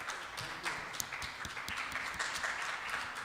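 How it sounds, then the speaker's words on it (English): Audience applause at a new-music concert in a Brooklyn music school, scattered claps forming a moderate, steady round with some individual sharp hand claps standing out. "let's have another round of applause"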